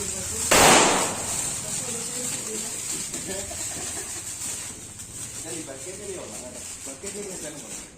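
A single loud firecracker bang near the start, followed by a lingering hiss and crackle while people chatter in the background, during Onam celebrations.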